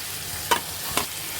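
Pointed gourd stirred into frying chicken masala, a low sizzle under two quick scraping strokes of a spoon against the pan, close by and brief.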